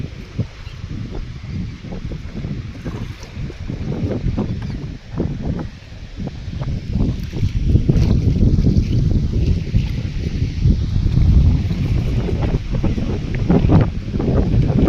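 Cold, gusty wind roars steadily across the microphone, a low, rumbling buffeting that swells louder in the second half.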